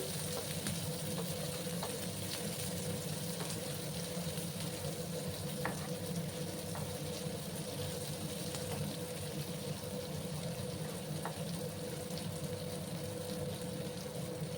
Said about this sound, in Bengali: পেঁয়াজগুলোকে একটু লাল করে ভেজে নেব।